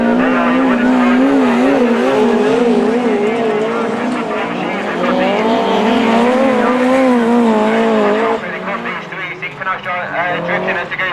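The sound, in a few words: autograss race cars drifting around track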